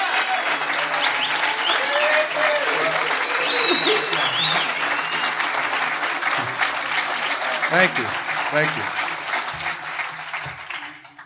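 A crowd at a Nullify Now event in Philadelphia greets a sheriff with sustained applause and cheering that fills the room and slowly fades, while someone speaks briefly over it.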